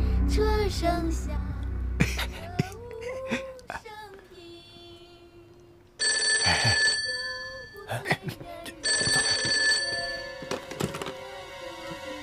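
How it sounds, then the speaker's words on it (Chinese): An old telephone ringing in a period war film, bursts of bright bell tone that start and stop, mixed with thuds and other clatter, with some speech around it. "请秋元少佐接电话。"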